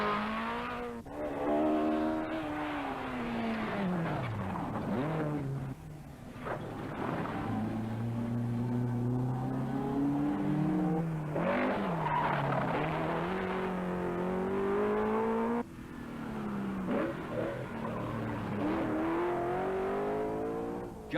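Ford Escort rally cars racing hard on the 1983 Donegal Rally, engines revving loud and close with rising and falling pitch through gear changes, long continuous passes and skids.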